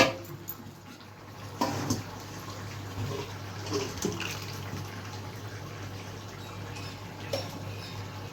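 Hot water pours steadily into a pot of urad dal, a continuous splashing gush with a few louder splashes and faint clinks of a container.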